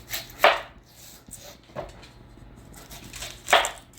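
A knife cuts through onion on a cutting board in three sparse, sharp chops spaced over a few seconds, fairly close and quiet between strikes.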